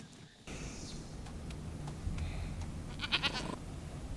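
A goat bleats in a scene from a fantasy TV drama, a couple of wavering nasal cries over a dense outdoor background, moderately loud and close, with other ambient noise filling the scene.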